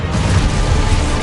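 A loud Confringo blasting spell explosion in Hogwarts Legacy roars as a dense, rumbling blast that stays strong and close for its whole short length, with no talk over it.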